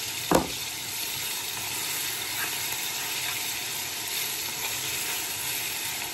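Shrimp and chicken pieces fry in hot oil with a steady, close sizzle that hisses evenly throughout, with one brief clatter near the start.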